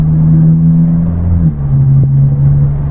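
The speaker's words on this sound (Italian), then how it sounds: "io vado ad utilizzare il freno motore del cambio" A Volkswagen car with a DSG gearbox slows under engine braking, a steady low engine hum and drone whose pitch steps down midway, with faint whir, heard from inside the car without talk.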